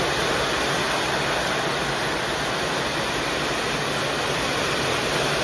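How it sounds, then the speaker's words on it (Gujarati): Heavy rain pours down in Surat during the afternoon, a dense, unbroken roar of hiss that stays loud and even from start to finish with no voices. "જો વરસાદ આવી ગયો ચાલુ થઈ ગયો"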